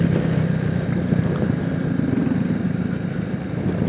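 A small 70cc motorcycle ridden slowly along a road gives a steady low engine drone mixed with road and wind rumble, continuous and even throughout, with no talking.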